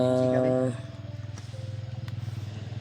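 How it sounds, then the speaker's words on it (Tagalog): Motorcycle engines in the distance produce a low, steady throbbing rumble with a regular pulse, following a brief voice at the start. "Yung naririnig natin mga motor na ingay."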